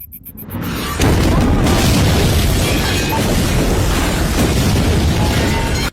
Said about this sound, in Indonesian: Tiba-tiba, bom meledak dan menghancurkan semua mobil anak buah Sen.